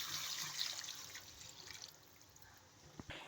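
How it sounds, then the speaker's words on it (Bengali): Water poured into sautéed vegetables with fish and ridge gourd cooking in a pan, a soft brief splashing pour that fades, followed by a couple of faint knocks near the end, quiet and close. "এখন দিয়ে দিচ্ছি জল।"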